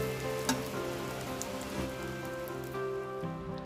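Mutton shami kababs fry in a pan over medium gas, giving a steady close crackle of oil with scattered sharp pops over a continuous low hum, with no talking.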